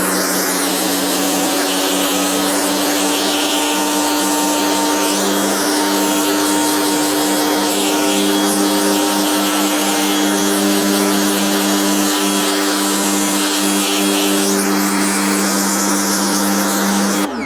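A pressure washer blasts water onto a rug during a rinse after foam-cannon carpet cleaning, a loud, steady broadband hiss with a constant motor hum underneath, running unbroken throughout.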